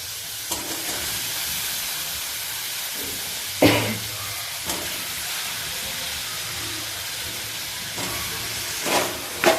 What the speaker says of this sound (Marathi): आता त्यामध्ये मी बारीक चिरलेला बटाटा टाकते।